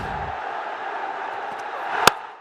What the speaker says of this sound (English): Appreciation, delight, smiles, applause, cheering in the stands.